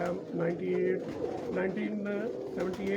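Pigeons of a crossbred breed coo on a Lahore rooftop in soft, repeated rolling calls close by, while someone talks over them.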